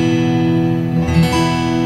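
Acoustic guitar with its 3rd and 4th strings retuned, played without a capo: sustained open-sounding strummed chords ringing steadily and close, with no voices.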